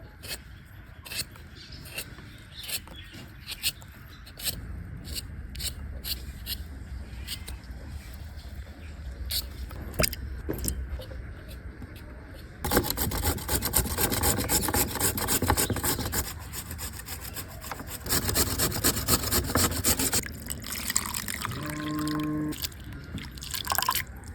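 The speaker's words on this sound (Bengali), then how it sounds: "প্রথমে আলুগুলো ছুলে নেব এই যে মেশিনের সাহায্যে ছুলে নেবো" Potatoes are peeled with a hand peeler in a village kitchen, repeated short rasping scrapes in a steady rhythm, then a denser, louder stretch of scraping with a faint wet drip, close and without talking.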